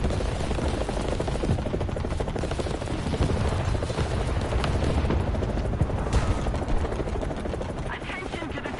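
An enemy helicopter in the War Thunder combat game roars with a dense, continuous rotor thrum, mixed with rapid gunfire bursts, and a player's voice is heard over the din.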